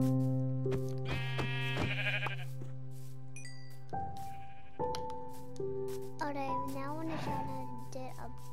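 Several sheep bleat in the Minecraft video game, drawn-out wavering calls repeating close and clear over a steady background music drone.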